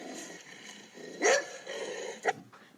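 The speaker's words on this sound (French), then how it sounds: "elle se met à aboyer et à hurler comme jamais" A dog barks and yelps a few times with a short whining howl, fairly close, over a faint background hiss.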